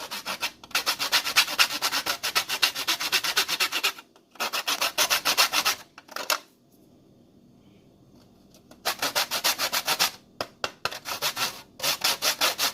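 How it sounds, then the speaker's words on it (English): An ingredient for Nigerian puff-puff is rubbed against a hand grater in steady, fast, rasping strokes, close and clear, broken by a few short pauses and one longer quiet gap before the grating resumes. "Grate until you get the quantity you think you will need in."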